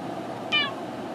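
A cat in an off-grid truck camper gives a single short meow over a steady low hum of background noise.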